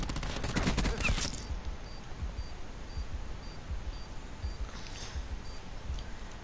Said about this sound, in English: Nah, I'm using my other gun.